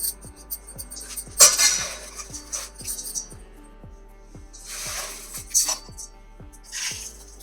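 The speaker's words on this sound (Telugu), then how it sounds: "మనం ఇలా అయితే బియ్యం వేసుకోవాలండి బియ్యంతో నింపేసుకోవాలి" Dry rice poured into a bowl while decorating for a Sravana Masam puja: a few separate bursts of soft, hissing patter over a steady, quiet ticking beat in the background.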